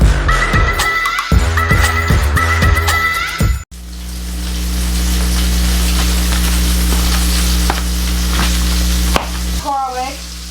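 Olive oil hits a hot pan and bursts into a loud, continuous sizzle that holds steady for several seconds, after some brief clattering kitchen sounds at the start.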